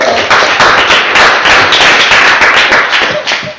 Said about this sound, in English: Please give a loud applause to Chloe